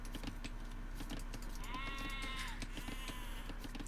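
A sheep in the video game Age of Empires II bleats twice in quick succession, faint and wavering over a low constant game hum with soft clicks.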